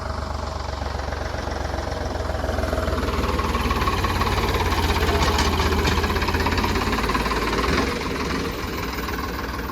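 A Ford tractor pulling a rotavator through a waterlogged field runs with a steady, knocking low engine throb and a busy mechanical clatter on top, close and continuous, with no talking.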